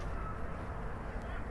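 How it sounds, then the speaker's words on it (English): Birds call against a steady wash of outdoor background noise, fairly faint and unhurried. "Listen to the birds sing."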